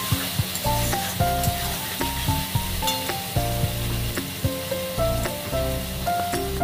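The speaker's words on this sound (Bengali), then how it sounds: "দেবো দুটো কাঁচা লঙ্কা চেরা, দেবো নুন, ভালো করে মশলাটা কষিয়ে নেব।" Spice masala fries in a pan with split green chillies and salt, a loud, constant sizzle broken by regular scraping stir strokes close by, with nobody speaking.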